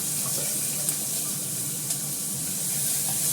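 Sliced onion and green chillies sizzling in a pan of hot oil left from frying fish, a steady close hiss with a couple of small pops, no talk.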